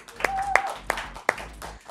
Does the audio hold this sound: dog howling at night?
no